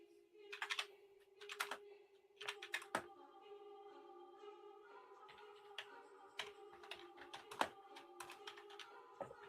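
Keystrokes on a computer keyboard while taking a note, irregular bursts of close, crisp taps with short pauses, over a faint steady background hum.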